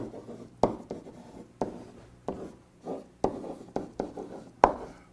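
Handwriting a list: soft scratching strokes of a pen or pencil on paper, close and quiet, coming in short irregular bursts with sharp taps between them.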